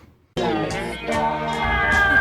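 A video game cat lets out one long, drawn-out meow, loud and close, with a wavering tonal quality that lasts about two seconds after a brief quiet start.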